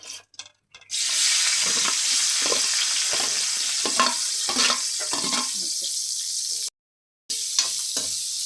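Onions and then white brinjal frying in hot oil for a curry in a village kitchen, a loud continuous sizzle with stirring scrapes, briefly cutting out near the end before the hiss resumes.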